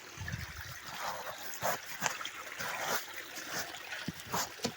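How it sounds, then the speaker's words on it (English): Continuous broadband rush of spring runoff water flowing in a stream with splashy bursts, steady and fairly close, no voices. "we have water that's just rushing past"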